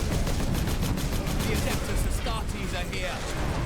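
Dense, continuous gunfire rattles through a Space Marine video game battle, a loud wash of rapid shots and explosions with no pauses.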